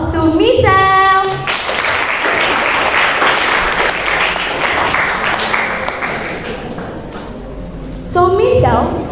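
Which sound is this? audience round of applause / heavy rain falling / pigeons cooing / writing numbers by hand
audience round of applause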